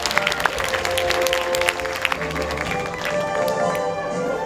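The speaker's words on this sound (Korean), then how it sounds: "안드레스 라미레즈 폴리도 감독에게 전달될 수 있도록 뜨거운 박수 부탁드리겠습니다" An audience at a short film festival closing ceremony in Busan claps for a film director, steady moderate applause with some murmuring underneath.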